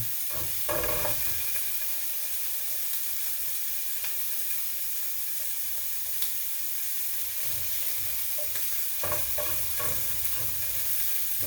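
Sausage frying and browning in a pan sizzles with a steady, loud hiss throughout, broken by a few scraping stirs and shuffles near the start and again toward the end, with no voices.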